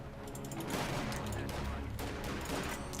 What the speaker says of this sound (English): That machine gun needs to take them out